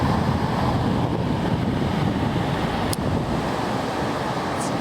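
Ocean surf washing around a rocky cove at Cape Reinga, a steady broad roar of breaking waves mixed with wind buffeting the microphone, continuous and fairly loud throughout with no talking.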